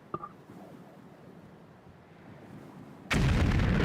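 A grenade from the Army Men Air Attack game goes off as a sudden loud, broadband blast near the end, following a quieter stretch of low battlefield rumble with a faint pop at the start.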